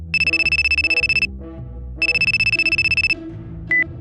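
A telephone ringtone sounds during an outgoing call: two loud bursts of rapid electronic trilling, each about a second long and separated by a brief pause, with a short beep near the end and no speech.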